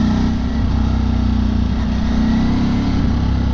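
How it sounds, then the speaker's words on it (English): A Ducati motorcycle engine runs hard and close, a loud, steady, deep throbbing rumble held for a few seconds with no pause and no talking. "You know, I am starting to love the sound of Ducatis."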